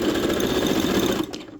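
A sewing machine stitches the side seam of a small pet dress in a fast, even mechanical whir that runs steadily before stopping near the end, with no voice over it.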